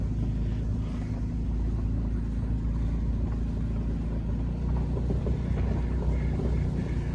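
Pickup truck driving along a road, a steady low engine rumble and road noise from inside the cab, constant and moderately loud, with no talk.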